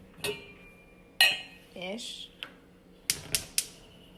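A medium-sized metal pot is handled in a home kitchen while making kombucha, giving a handful of sharp clanks and ringing clinks spaced out over a few seconds, close and fairly quiet, with a brief voice between them.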